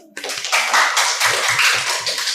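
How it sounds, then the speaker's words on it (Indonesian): A classroom of students applauds, with steady, dense clapping from many hands filling the room at close range after an abrupt start. "Berikan aplaus dulu"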